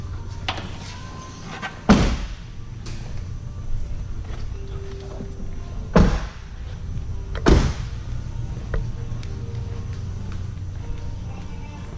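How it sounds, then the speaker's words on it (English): Three solid car door slams on a 2015 Jeep Cherokee land a few seconds apart, each a sharp thud against a quiet idling background. "Let's go ahead and shut these doors."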